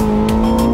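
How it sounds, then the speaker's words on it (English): Porsche 918 Spider hypercar with a 4.6-liter V8 and two electric motors on the front and rear axles, its engine holding a steady, loud droning roar on the Nordschleife circuit. "The Nordschleife trembled under the sound of the 918 Spider."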